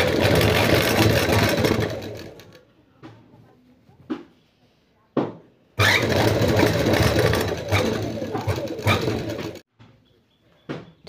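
A sewing machine stitches a frock collar in bursts, a steady mechanical whirr that runs, pauses and restarts several times, with short taps and gaps in between.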